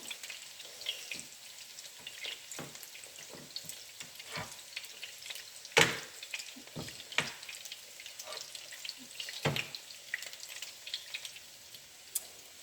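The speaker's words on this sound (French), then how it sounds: "on les laisse frire de ce côté-ci maintenant" Portuguese salt cod fritters sizzle in hot oil, a steady crackling fry dotted with sharp pops and spatters, one louder snap midway, close and continuous with no voices.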